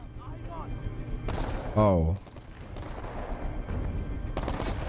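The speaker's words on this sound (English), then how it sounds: "Stop shooting me." Gunfire in Titanfall 2 crackles in bursts beneath steady game noise, with one loud blast standing out near the middle, while a player speaks briefly over the action.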